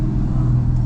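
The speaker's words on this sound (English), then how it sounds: "Porsche turbo race car." A loud, deep Porsche turbo race car engine rumbles steadily nearby, a brief sustained drone with a slight rise in pitch.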